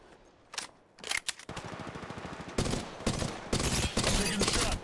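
Bursts of automatic gunfire in the shooter game Apex Legends, a few short volleys early, then sustained rapid fire rising in loudness with brief gaps between bursts.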